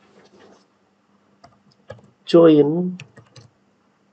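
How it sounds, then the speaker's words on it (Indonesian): Clicking keystrokes on a computer keyboard come in short, scattered taps while code is typed, with a voice briefly speaking over them partway through. "Kita ketikkan"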